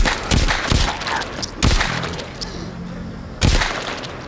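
Sharp gunshots fired after a fresh magazine is loaded, a few separate loud cracks spaced a second or two apart over a noisy background.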